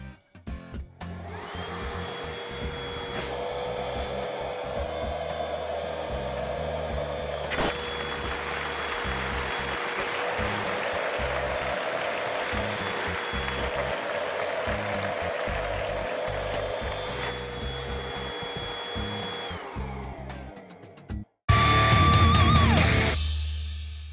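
A Bosch EasyVac 12 cordless vacuum cleaner whines steadily for about twenty seconds as it sucks up a box of screws, with rattling and clattering mixed into the hum, then cuts off briefly before a louder burst of noise.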